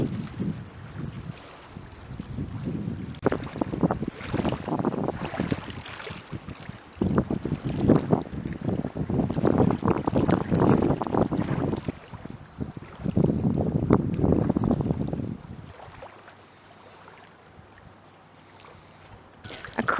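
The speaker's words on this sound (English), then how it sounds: "The winds are starting to pick up, so the water's getting a little choppy" Wind picks up over a lake at Moraine State Park on a spring hike, buffeting the microphone in loud, rushing gusts over choppy water, then easing to a quieter lull near the end.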